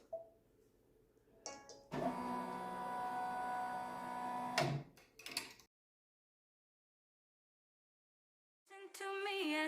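A multineedle embroidery machine stitches out a potholder with a steady, rapid mechanical chatter that runs for a few seconds. It stops abruptly, and after a silent stretch a short higher-pitched whirring starts up.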